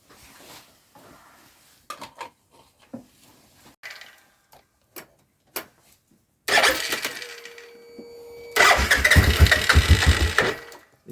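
A quad's engine is coaxed to start: scattered clicks and short cranking bursts, then a loud engine roar catches twice, the second run rougher and sustained until the end.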